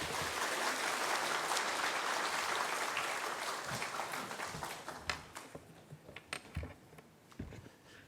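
Audience in a church sermon service applauding to welcome a pastor, loud dense clapping at first that thins into scattered individual claps toward the end.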